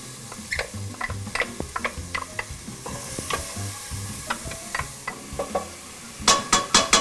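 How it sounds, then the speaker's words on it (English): Jalapenos sauté in melted coconut oil with a low, steady sizzle under a regular run of utensil clicks and scrapes against the pan. A brighter burst of rapid taps comes near the end. "we're going to saute our jalapenos for about a minute"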